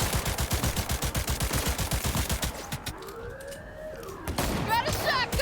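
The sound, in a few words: shotgun firing in the video game Cyberpunk 2077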